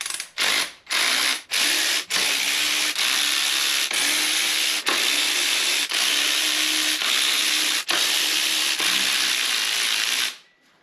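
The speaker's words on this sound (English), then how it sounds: "Now I'm gonna start undoing the intake manifold." A ratchet undoes intake manifold bolts on a big block engine, rapid continuous clicking in long strokes broken by short pauses between swings, close and loud, ending abruptly.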